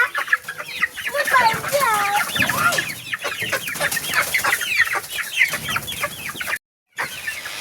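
Newly housed chicks, freshly placed in a box and not yet settled into their coop, keep up a busy, close chorus of high peeping and clucking, steady and loud, cut by a short moment of silence near the end.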